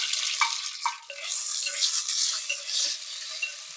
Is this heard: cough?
no